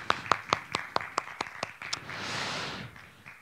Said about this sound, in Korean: 다시 한번 박수로 하겠습니다.